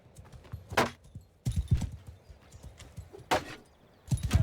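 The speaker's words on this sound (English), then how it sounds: "Let's mount our horse." Horse hooves clip-clop in the video game Mount & Blade II: Bannerlord, a few separated bursts of hoof impacts over a low, quiet background.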